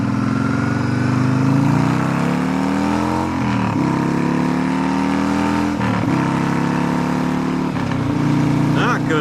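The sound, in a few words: motorcycle riding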